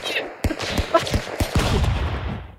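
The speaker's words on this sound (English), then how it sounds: "There's a mini gun." A minigun in Stick Fight rattles off rapid bursts of shots, loud and close, broken by a few sharp single reports, with players' voices over the shooting.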